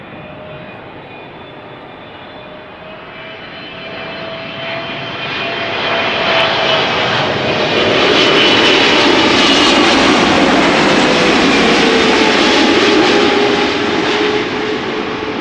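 A fixed-wing airliner arrives to land on the Polderbaan runway at Amsterdam Schiphol Airport. Its loud engine roar swells and holds close overhead for several seconds before easing slightly.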